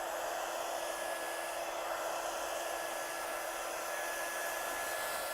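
A heat gun blows hot air to emboss stamped cards, giving a steady, loud whooshing hum with a fan whine that holds unchanged throughout, with no talking.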